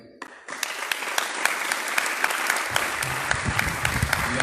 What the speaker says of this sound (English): Can we just take a moment to applaud all of our hard work?